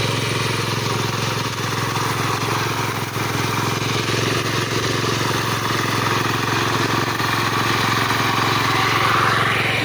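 A homemade mower's engine runs steadily in low gear while mowing, a loud, close, constant drone with no breaks and no speech.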